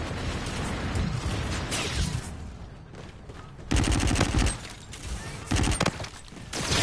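VPR bursts from a Call of Duty: Infinite Warfare match: rapid, crackling volleys of automatic fire come in short clusters between quieter stretches of game ambience and small effects.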